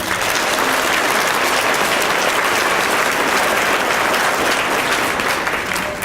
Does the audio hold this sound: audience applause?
yes